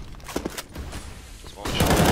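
Gunfire in Counter-Strike on the Mirage map, a few sharp cracks and thumps in quick succession under background game noise, with players talking over it.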